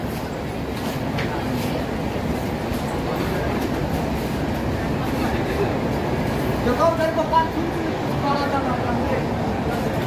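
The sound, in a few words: express train halted at Vasai Road railway station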